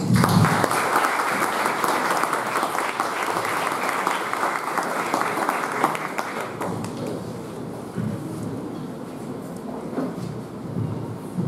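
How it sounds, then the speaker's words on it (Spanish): An audience at a university event applauds in welcome, a full, loud round of clapping that thins out and softens over about eleven seconds, with a few faint scattered claps near the end. "Recibámoslo con fuertes aplausos."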